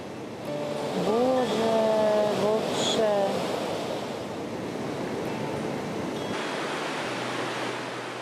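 The Probiy waterfall in the Carpathians, an eight-metre cascade, roars as a steady broadband rush of falling water, loud and close, with a brief tonal sound over it early on.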